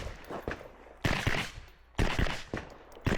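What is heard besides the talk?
gunshots during practical shooting competition stage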